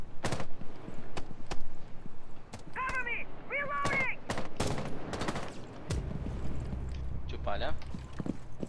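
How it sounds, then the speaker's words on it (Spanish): Rapid bursts of video game gunfire crackle in dense volleys alongside loud thumps, while voices of players shout and talk over the action throughout. "Te lo agarraron los tiros"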